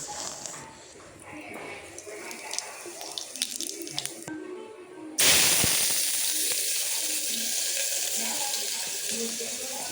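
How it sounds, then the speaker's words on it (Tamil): Mustard seeds and cumin sizzle in hot ghee, a bright steady hiss that starts abruptly midway and stays loud, after a quieter stretch with light clinks and someone speaking. "நெய் நல்லா சூடானதும் இதில் கொஞ்சமாக கடுகு, கொஞ்சம் சீரகம், இது ரெண்டுத்தையும் ஆட் பண்ணிக்கோங்க"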